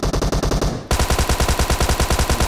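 Rapid automatic fire from a Beryl rifle in PUBG Mobile, a dense, evenly spaced stream of loud shots that briefly shifts in tone before continuing at full intensity.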